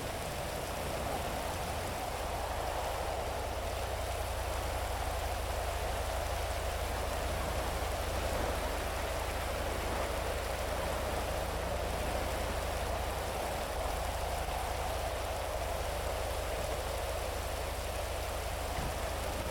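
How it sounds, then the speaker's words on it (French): Steady rain falls throughout a video game scene, a dense even patter with no voices. "L'inter, il pleuvait pas, et là, il pleut."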